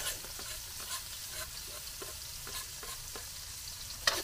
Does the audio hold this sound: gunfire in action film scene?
no